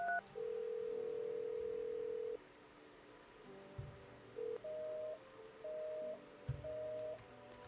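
A telephone call placed in a video game goes unanswered: a long steady dial tone, then a run of shorter electronic beeps and tones, fairly quiet, with no talk.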